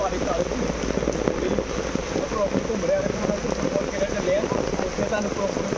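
Rain falls in Power Colony, Ropar, a steady dense patter on surfaces with no break, with a faint voice murmuring in the background.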